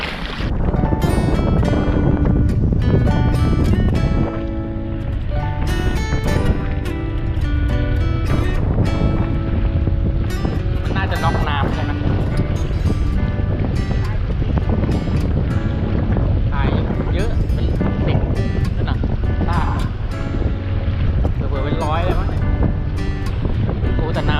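Steady, loud wind gusting across the Lam Takhong reservoir during a fishing trip, buffeting the microphone with constant rumbling noise for the whole stretch while people talk over it.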